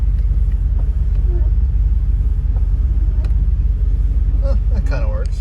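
Range Rover engine running while driving, a steady low rumble that holds loud and constant throughout, with faint brief tones near the end.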